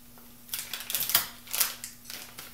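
Scissors snip open a plastic piping bag to fit a size 47 decorating tip while a fruit basket cake is being made, giving a few quick, close cuts and crinkles, with no talking.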